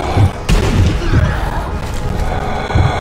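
Gunfire in the co-op zombie shooter Zombie Army Trilogy comes as repeated heavy, muffled booms at an irregular pace over a dense game soundscape.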